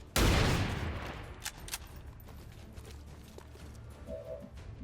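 XCOM 2 gunfire in the Long War of the Chosen mod: one loud burst of rapid shots opens the clip, then fades into a low rumbling tail with scattered faint impacts and a brief chime near the end.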